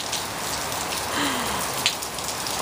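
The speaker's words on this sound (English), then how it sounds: "Anyway, it's windy, it's rainy," Heavy windy rainstorm, with steady rain hissing and pattering on surfaces in a dense continuous wash and a few louder drops standing out.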